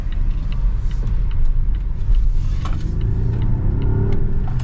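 A 2026 Volvo XC90 plug-in hybrid engine starts up in power mode, a steady low rumble and idle growl from inside the cabin that holds at a constant level throughout.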